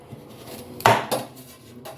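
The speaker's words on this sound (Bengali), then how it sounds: "এখন প্রাপ্তিকে আপেল কেটে দিচ্ছি" A knife cuts an apple on a plate: one sharp clack of blade on plate, then a second, softer knock and a faint tap after it, close by in a quiet room with no speech.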